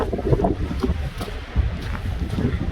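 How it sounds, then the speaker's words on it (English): Steady wind buffeting the microphone outdoors on Dartmoor, a rough continuous low rumble with gusty swells, no clear talk. "It's pretty windy."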